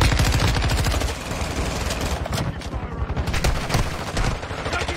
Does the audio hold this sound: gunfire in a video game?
yes